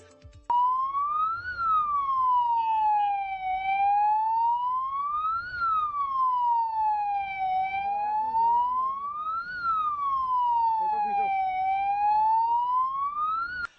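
An ambulance stuck in a traffic jam in Dehradun sounds its siren: a loud, close wail rising and falling in slow cycles of about four seconds, carrying on alone.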